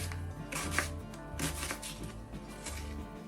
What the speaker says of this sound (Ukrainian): Цибуля тут також має бути відчутна, тому я нарізаю півкільцями